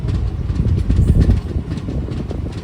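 A Villupuram superfast express train runs along the tracks in a steady low rumble heard from inside a general coach, with a continuous droning roar and faint rhythmic rattling.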